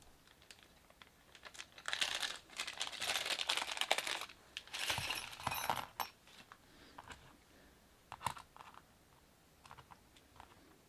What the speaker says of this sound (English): I'll take the components out now and spread them all out so I can take a look